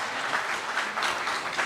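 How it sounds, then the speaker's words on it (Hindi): A crowd gives enthusiastic applause after a lamp-lighting ceremony at a chief minister's dialogue event with solar self-employment scheme beneficiaries, dense, lively clapping that stays loud throughout. "पर जोरदार तालियां।"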